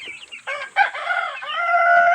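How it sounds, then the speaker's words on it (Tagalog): A rooster crows nearby, loud and clear, in one drawn-out cock-a-doodle-doo that opens with a few short clucking notes and ends in a long, sustained final call. "Tandang."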